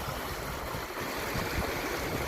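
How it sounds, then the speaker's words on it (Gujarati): River water rushes through a breach in a check dam on the Machhu river, a steady broadband roar of flowing water, loud and continuous with no voices heard. "જો અહીંથી આ પાણી જાય છે,"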